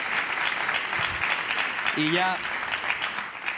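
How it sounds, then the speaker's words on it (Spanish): Steady audience applause at a live comedy show about party anecdotes, filling the whole stretch at moderate loudness, with a brief spoken interjection over it midway. "Un aplauso para los de Moneva que están aquí."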